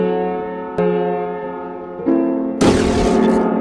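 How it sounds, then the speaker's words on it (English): In the horror video game Layers of Fear, piano keys are struck hard: a sharp hit, then a second, then a loud crashing cluster, each ringing out with a long sustained tone and no voices. "piano key slamming,"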